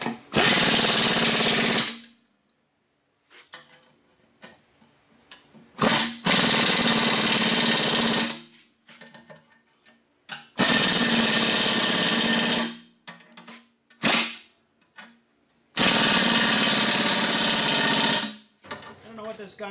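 An air impact gun fires in several loud bursts of about two seconds each, separated by quiet pauses filled with faint handling noises and brief shorter blips.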